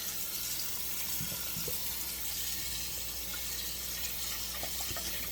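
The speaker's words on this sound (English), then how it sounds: "I normally turn on cold water" Cold tap water runs steadily into a sink, a continuous hissing splash with a few faint clinks in the background and no talking.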